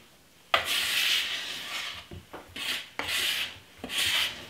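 A whisk rasps around a bowl of homemade baking mix in bursts of stirring, a scraping hiss that starts, pauses briefly and resumes several times, close and fairly loud with no voices.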